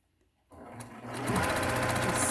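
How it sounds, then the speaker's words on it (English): A sewing machine stitching along the edge of a face mask, starting after a short silence and running in a steady rapid whir that grows louder and faster, close up. "Just sew right down the edge."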